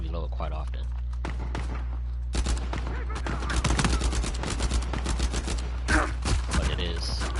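Rapid submachine gun fire in the video game Uncharted 4, dense bursts of shots with game sound effects, and a voice talking over it.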